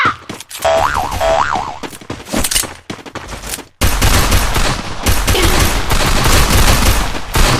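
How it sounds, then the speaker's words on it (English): Video game combat with a placed super bomb going off and bursts of gunfire, loud and dense, with a bouncy cartoonish boing sound early on and a sustained roar of explosions and shots in the second half. "I placed a super bomb fire."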